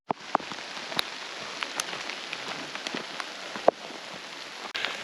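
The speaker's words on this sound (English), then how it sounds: "I'm all for having a gentle shower, but it's hailing on me." Hail pattering on the ground and gear while hiking and camping at 11,000 feet in the high country, a dense steady hiss of small impacts with a few louder sharp hits.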